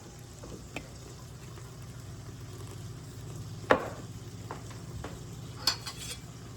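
Food frying in bacon grease in a skillet, a steady low sizzle close by with occasional clinks and scrapes of a utensil stirring, no talk.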